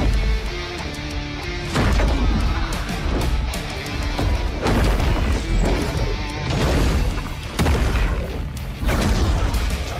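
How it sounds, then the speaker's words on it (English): Gunfire from a Total War Warhammer 3 cinematic trailer, loud repeated bursts and booming impacts landing in rhythm with a driving musical score, dense and close throughout. "the gunfire on beat."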